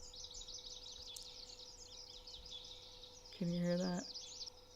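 Continuous chirping birdsong on a mountain at dawn, a dense layered chorus at moderate distance, with a person briefly speaking over it near the end.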